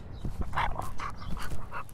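A dog, reportedly a resilient one, pants and whimpers close by in short breathy bursts mixed with thin high whines, steady and fairly loud without voices.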